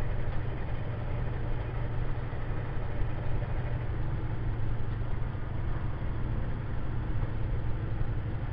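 A motorcycle engine runs with a steady, close, low rumbling drone that holds at an even level throughout, with no voices over it.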